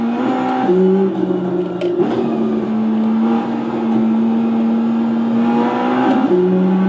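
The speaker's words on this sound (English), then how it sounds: "I'm driving a real race car." A race car in the iRacing sim revs and drives steadily, with loud, continuous engine tones that climb and shift with gear changes throughout, unaccompanied by speech.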